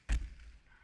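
A speed cube drops mid-solve during a competitive full match, landing with a single short, solid thud followed by a brief low rumble and quiet room noise.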